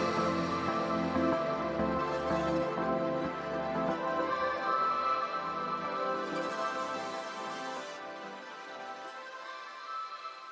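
Dense, sustained tones from a software synth plugin played with its motion effect switched off, so the texture stays steady without pulsing or panning; a layered, rich pad-like sound held over about ten seconds with no talking.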